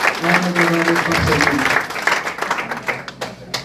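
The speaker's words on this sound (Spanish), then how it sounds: "Un fuerte aplauso" Guests at a wedding ceremony give a round of applause, dense clapping from a crowd with a murmur and faint tones beneath, thinning out toward the end.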